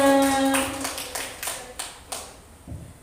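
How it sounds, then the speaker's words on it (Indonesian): An audience at a school seminar on positive culture gives a short burst of applause that quickly breaks into a handful of separate, spaced claps, each fainter than the last, after a brief tone at the start. "Tepuk tangan semuanya"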